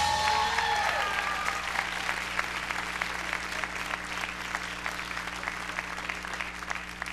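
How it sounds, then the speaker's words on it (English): A ballroom audience applauds dancers Ricardo and Helen, dense sustained clapping from a crowd that starts loud and fades slightly, with a faint hum running underneath. "A round of applause for Ricardo and Helen!"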